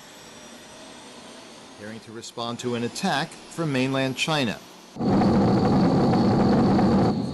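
Fighter jet engines rev at Qingchuangkong Air Base in central Taiwan, first a low rumble under a man's speech, then a sudden loud, broad roar that holds steady at the end.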